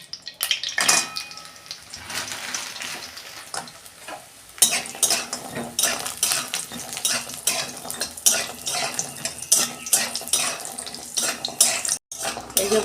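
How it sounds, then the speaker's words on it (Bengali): Black gram lentil dumplings (bori) frying in oil in a kadai, a steady close sizzle with stirring and scraping throughout, no talk. "এই যে আমি বিউলির ডালের বড়ি নিয়েছি,"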